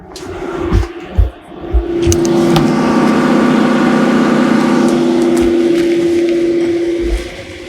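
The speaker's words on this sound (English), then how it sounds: "We're going to switch to the engine room generator. It's going to turn on." A yacht's engine-room generator starts up after a few clunks, then settles into a steady, loud, close hum with a strong tonal drone that runs evenly for several seconds before easing slightly at the end.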